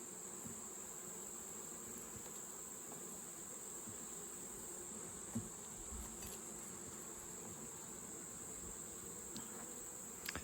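Honey bees buzz steadily inside an opened backyard beehive during a mite and feed check, a faint, continuous, dense hum with no talking.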